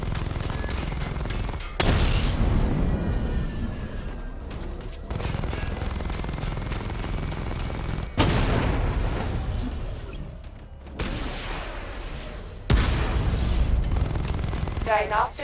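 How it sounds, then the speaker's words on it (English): Missile barrage fire in Batman: Arkham Knight, heard as loud, roaring blasts of launches that come in several separate waves, each cutting in suddenly and rumbling for a few seconds before the next volley. "Missile barrage level 1 ready."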